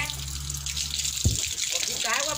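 A kitchen tap runs steadily while dishes are washed, a constant hiss of flowing water with a brief clunk partway through.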